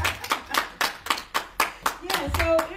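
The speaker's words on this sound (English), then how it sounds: "That's a good place to clap." Hand clapping from a church audience during a sermon, a steady rhythmic series of about ten sharp claps close by, with a voice joining near the end.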